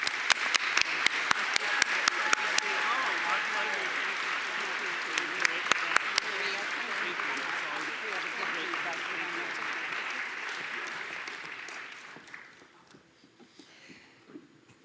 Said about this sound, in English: please join me in a robust round of applause for Maria and Henry